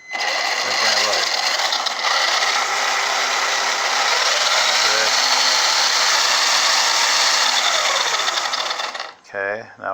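A WLTOYS 12423 RC short course truck drives with a continuous high-pitched electric motor whine and gear buzz lasting most of the time, loud and close, with someone talking over it before it cuts off near the end.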